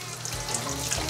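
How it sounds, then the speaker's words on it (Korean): A kitchen faucet runs in a thin stream while perilla leaves are rinsed one at a time, giving a close, continuous splashing trickle with small bursts as water hits the leaves. "흐르는 물 졸졸 틀어놓고요, 깻잎 꼭지 딱 잡고 한 장씩"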